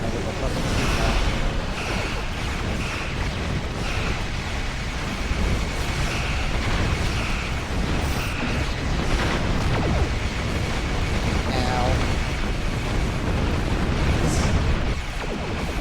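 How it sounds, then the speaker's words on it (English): Continuous rumbling booms and blasts of sci-fi space combat in the game Star Trek Online roar without a break, a dense, loud wash of explosions with faint electronic tones on top. "There's a lot of explosions going on"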